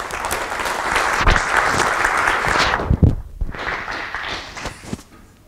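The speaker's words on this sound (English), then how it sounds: "let's give Professor Hellerstein and Dr. Friedman a warm hand of applause" An audience at a computer science lecture applauds the lecturers, a loud, dense burst of clapping that briefly thins with a few thumps and then continues more loosely before fading.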